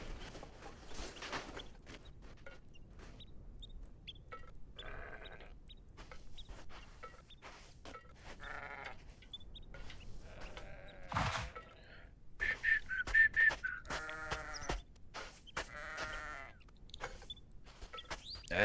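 Sheep in the video game Baby Steps bleat several times at moderate distance, the wavering calls scattered over soft footsteps and background game noise.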